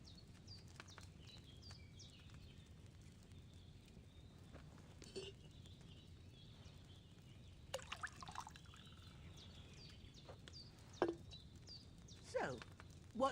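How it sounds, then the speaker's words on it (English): Wine pours into a cauldron in Kingdom Come: Deliverance II, a soft steady trickle and patter running under faint background ambience with a few brief chirps and clinks. "First, you have to pour the right base into the cauldron."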